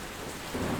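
Steady rain hisses across a surface with a low thunder rumble swelling in near the end, dense and fairly loud, no voices.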